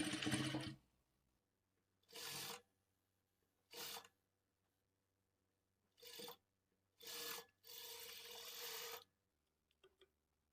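Sewing machine stitching blouse cloth in a series of short, close bursts, some only a fraction of a second and one longer steady run, with quiet gaps between.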